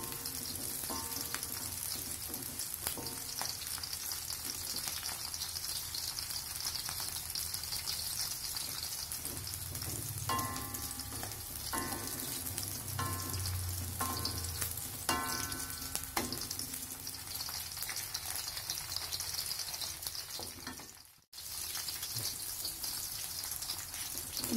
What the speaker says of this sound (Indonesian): Serai, daun pandan. Kita tumis sampai harum.